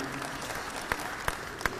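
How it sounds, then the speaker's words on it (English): Sparse, faint applause from an audience at a legislative delegation update in a civic center hall, a soft wash of clapping with a few sharper individual claps standing out, brief and distant. "I'll accept that round of applause right now"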